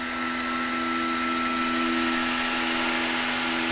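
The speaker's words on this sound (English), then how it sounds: "And like that, it's just printing again, exactly where it left off." 3D printer resuming its print after a filament swap, producing a steady close mechanical whir with a constant motor hum and tonal whine, no voices.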